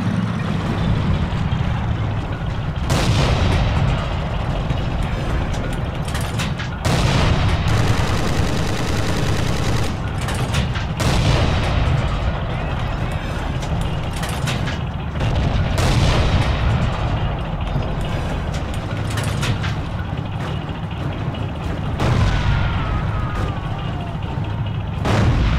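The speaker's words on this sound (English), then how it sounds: "I can fire into the trench." Battlefield gunfire in Forgotten Hope 2 during the Siege of Tobruk: dense, continuous rifle and machine-gun bursts with heavy booms, loud and steady throughout, with occasional voices mixed in.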